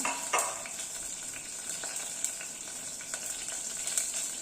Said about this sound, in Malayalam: കുറച്ച് കടുക് ഇട്ട് കൊടുക്കാം. പിന്നെ കുറച്ച് ഉലുവ ഇട്ട് കൊടുക്കാം.